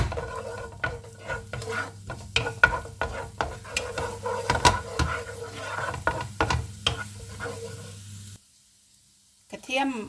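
Chopped garlic stir-fried in a pan for seafood pad see ew gives a steady sizzle under quick, rhythmic scraping strokes of a spatula. A voice talks briefly, and the cooking drops away near the end.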